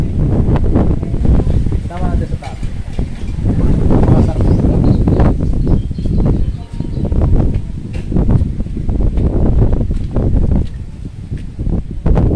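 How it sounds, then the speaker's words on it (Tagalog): Hot, gusty wind blows across a high outdoor lookout, buffeting the microphone in steady loud rushes with rustling throughout, and someone talks over it at times. "Init pero mahangin. Mainit na mahangin."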